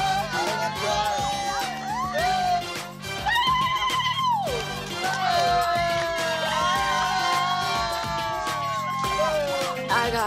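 A crowd of women cheers at a reality-show competition, with high, wavering shrieks and whoops rising and falling over a steady roar of excited voices, fairly faint and sustained throughout.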